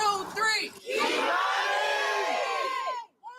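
A crowd gathered at an abandoned house on Miami and Wilmot shouts a girl's name together in one loud, sustained unison cry lasting about two seconds, followed by a brief, sharper shout at the end.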